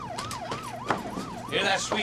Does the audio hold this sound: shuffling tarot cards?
no